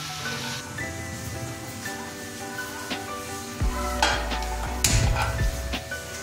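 Rice and spices being stir-fried in a pan on medium heat for pulao give a soft, continuous sizzle, broken by scraping stirs and a few louder clanks of the spoon against the pan in the second half.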